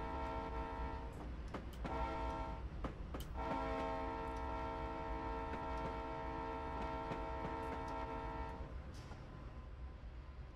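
A passenger train in the Train Simulator Classic game rolls past, with a steady layered engine drone, horn-like tonal chords sounding through most of the pass and brief clanks near the start, fading slightly at the end.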